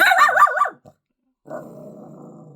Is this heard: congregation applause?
no